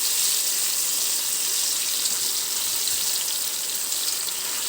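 Potatoes frying in oil on a dosa griddle, a steady, even sizzle heard close up on its own with no talk.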